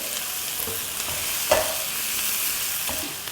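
Chicken stock cube, black pepper and Kashmiri chili powder being stirred into a sizzling pan for chicken chili, a constant frying hiss with a couple of soft spatula scrapes, near and without talk.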